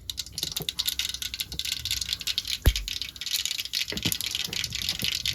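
Mustard seeds popping in hot oil for tempering khaman dhokla, a dense quiet patter of tiny crackles with one sharper pop, close and continuous, no voices.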